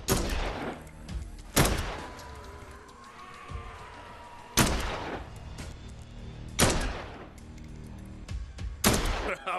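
Dead Island 2 gunfire: five or six loud, sharp shots spaced a couple of seconds apart, each with a short echoing tail, low rumbling ambience in between.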